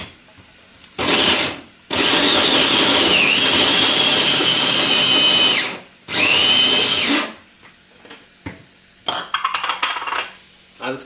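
An electric chopper whirs loudly in bursts while finely chopping vegetables, with a long run of steady motor drone, short pauses between pulses, and a rattling, clattering tail as it winds down.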